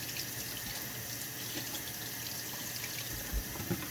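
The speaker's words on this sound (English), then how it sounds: "fill it up with your cold water" Steady running cold tap water pours into a bowl, a constant hiss with faint splashes near the end, no voices.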